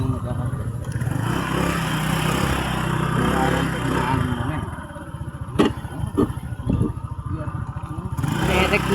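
A motorcycle rumbles steadily along a rocky road, its engine droning close by with bumps and rattles breaking through, while people talk over the ride.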